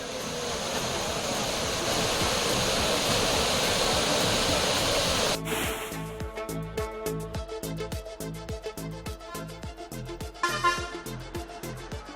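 Heavy flow at the Courtallam waterfalls makes a dense, steady roar of rushing water that holds loud and unbroken before shifting into a rougher, choppier wash.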